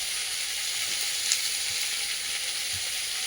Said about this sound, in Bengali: আর এবারে চিংড়ি মাছগুলো ভেজে নিচ্ছি